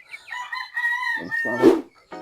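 A rooster crows nearby, a long rising-and-falling cock-a-doodle-doo, loud and clear, ending with a brief cluck.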